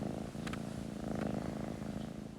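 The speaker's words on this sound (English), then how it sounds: "So the purring is my cat." A half Maine Coon, half Bengal cat purrs loudly and close, a continuous rhythmic rumble with a brief faint click partway through.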